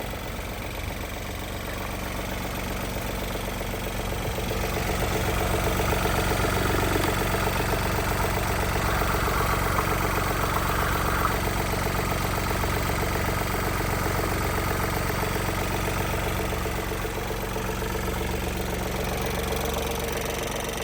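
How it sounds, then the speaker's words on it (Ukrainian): A 2021 Opel Insignia B Sports Tourer's 1.5-litre 90 kW diesel engine idles steadily with a rhythmic knocking clatter, close and continuous, swelling slightly in the middle, with no voices. "Як ви можете чути, мотор працює як годинник рівно та без жодних сторонніх звуків."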